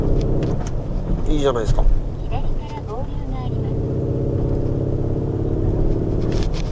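A Lamborghini Urus SUV's V8 engine hums steadily while the vehicle corners, with a constant low drone and some rising whine running beneath someone talking throughout.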